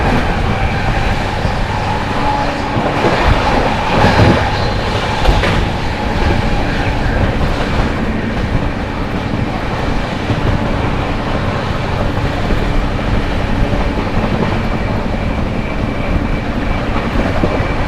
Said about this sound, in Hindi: आप लोगों को क्रॉसिंग दिखाते हैं रांची गरीब रथ एक्सप्रेस के साथ।